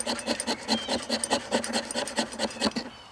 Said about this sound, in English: Scrape it off in dust.